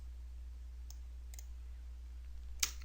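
A computer mouse clicks a few times while working in SolidWorks CAD software, soft sparse clicks over a low steady hum, with one sharper click near the end.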